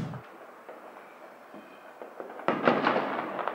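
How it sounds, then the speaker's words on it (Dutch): Fireworks seen from a balcony: distant pops and crackles build over a few seconds into a denser burst of bangs near the end, heard from afar with no talking. "Vuurwerk. En dat heb ik gefilmd vanaf mijn balkon."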